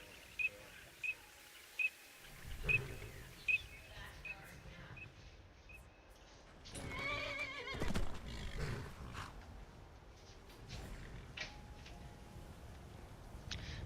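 A horse in the video game Skyrim whinnies and snorts amid game sound effects, with a run of sharp clicks early on and louder rustling movement in the middle; a voice talks over parts of it.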